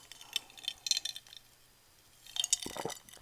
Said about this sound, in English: We'll see how good the mic is picking up the ice sound in my glass right now.